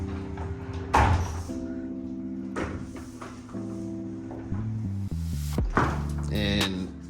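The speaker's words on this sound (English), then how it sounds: "sliding door and it's heavy as crap" A heavy sliding door in a hotel room at the InterContinental Nha Trang in Vietnam rumbles and thunks as it is pushed open, with sharp knocks near the start and end over steady tonal background sound.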